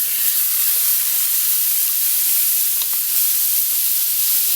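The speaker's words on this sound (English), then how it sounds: "I'm just going to squirt some butter on here." Butter sizzling on a hot Kettle Q portable grill, a steady loud hiss and crackle that runs evenly without pause, close up and with no one talking.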